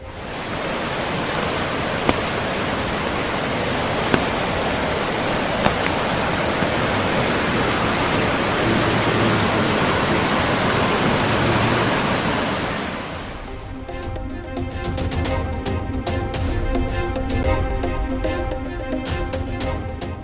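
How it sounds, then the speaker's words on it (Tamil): Courtallam waterfalls running with heavy flow after rain, a loud, steady roar of rushing water that continues for about thirteen seconds before cutting to a different, choppier backdrop. "குற்றால அருவிகளில் நீர்வரத்து அதிகரிப்பு"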